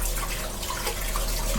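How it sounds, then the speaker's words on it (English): Steady rush of tap water running over hands to wash off shredded coconut, a constant close hiss with no talk. "I'm gonna just wash the coconut off my hands here"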